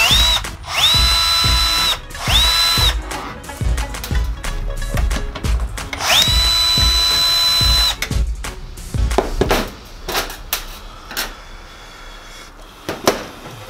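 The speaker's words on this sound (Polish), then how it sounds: "Wykręcić dwie śruby." A power drill whirs in repeated short bursts and longer runs as two screws are backed out of the fuser unit of a Ricoh MP C-series copier, loud and close, with clicks and handling noises between the runs.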